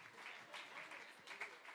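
Unmarried members of a church congregation applauding during a service, brief uneven clapping with a few louder bursts, fairly quiet and distant.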